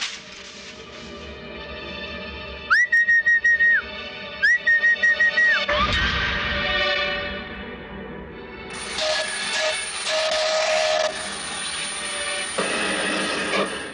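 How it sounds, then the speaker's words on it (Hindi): Two short, clear blasts of a train whistle at night, each a steady high tone, followed by a broad rushing noise and a long sustained high hiss. "रात के सन्नाटे में रेल की सीटी कितनी अच्छी लगती थी।"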